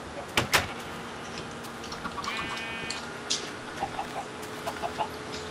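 Minecraft chickens cluck in short soft bursts amid other game noises, including a couple of sharp clicks and a brief tonal chirp, fairly quiet throughout.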